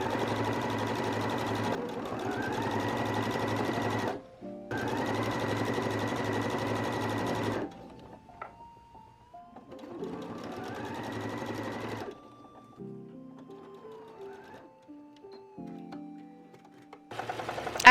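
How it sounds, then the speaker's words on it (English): A home sewing machine running a straight stitch down a pinned sleeve side seam, whirring in two long steady bursts with brief pauses, then a quieter stop-start stretch, close and clear with no talking. "Since I'm already at my sewing machine, I just folded it in half, right sides together, put some pins in, and I'm going to run a straight stitch"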